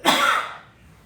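A single harsh cough from a child, close and loud, trailing off into a short quiet breath with no talking.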